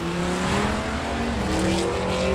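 A Dodge SRT-10 drag car at a drag racing event, a loud sustained engine roar with a rising tone as it launches, steady and prominent with no talking.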